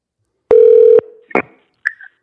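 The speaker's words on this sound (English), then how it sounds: "And now I'm going to call on the phone." Phone call being dialed: a loud steady keypad tone of about half a second, followed by two short, softer tone bursts with no one speaking.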